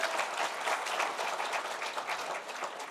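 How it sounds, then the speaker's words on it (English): An indoor audience at an advisory council kick-off event applauds with sustained, dense clapping that stays fairly even throughout, with no voices over it. "So give yourselves a round of applause."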